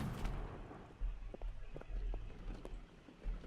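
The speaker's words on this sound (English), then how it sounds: "Oh, I can hear gunfire." Scattered distant gunfire in the Holdfast: Nations At War game during a coastal siege, several faint sharp cracks spaced irregularly over a low rumbling ambient background.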